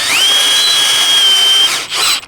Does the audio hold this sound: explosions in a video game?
no